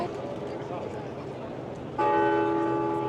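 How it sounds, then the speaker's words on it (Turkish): A church bell in Krakow strikes loudly at noon partway through, its ringing tones sustaining over a background of crowd chatter. "Saat tam 12 çanlar çalmaya başladı"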